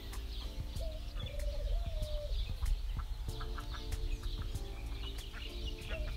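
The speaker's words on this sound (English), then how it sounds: "We've got a lot of doves. We've got about 20 doves around here." A flock of about twenty doves around a hilltop art studio coos and calls at a moderate distance, with soft overlapping bird calls and sharp intermittent clicks over a steady outdoor background.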